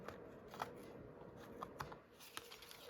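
Card paper is trimmed for a handmade Christmas card with a few faint, crisp snipping clicks spaced irregularly over a quiet room background.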